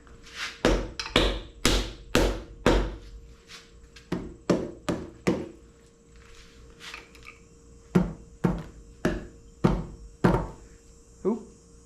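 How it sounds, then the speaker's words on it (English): A hammer strikes the cylinder head of a cheap 350 engine in a series of sharp metallic blows, clustered in quick bursts with short pauses, close and loud. "Get the hammer out."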